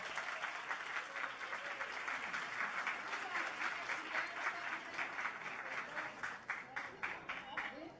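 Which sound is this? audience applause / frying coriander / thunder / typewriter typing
audience applause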